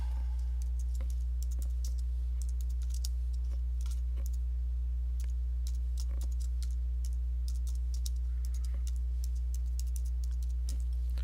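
Typing on a computer keyboard, irregular clicking keystrokes over a steady low electrical hum, close and fairly quiet.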